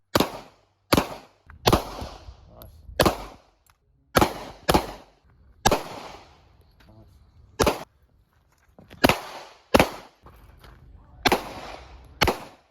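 Handgun shots at a training range, fired as quick double taps at targets: about a dozen sharp, loud cracks grouped in close pairs with short pauses between, each followed by a brief echoing tail.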